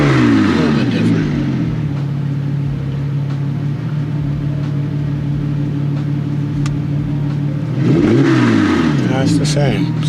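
Porsche 911 997.1 Carrera S with a Fi exhaust idles with a deep, loud burble, blipped up in a couple of short revs at the start and again near the end, with a voice talking over it.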